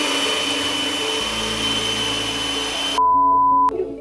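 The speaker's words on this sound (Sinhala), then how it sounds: "බටර් බීට් කරද්දී හැමලෙම මේ භාජනයේ තියෙන බටේම තියෙන ඒවා ටික එකතු කරලා ආයේ බීට් කරන්න" An electric hand mixer whirs steadily as it beats butter for cake pops, a loud continuous motor drone that briefly changes pitch, cuts out near the end and leaves a short tonal hum.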